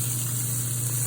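Rice dropped into hot oil in a pan for fried rice, a steady close hiss of sizzling that holds evenly over a low hum for about a second.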